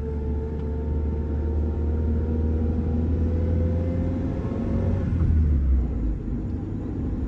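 A 1993 Honda Civic CX hatchback with a five-speed drives along, a steady low engine drone and road rumble from inside the cabin rising slightly as it accelerates.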